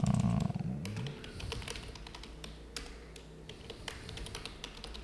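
A computer keyboard is tapped in short, quick bursts of keystrokes as a password is entered, close and fairly quiet over faint room noise, after a brief low rumble at the start.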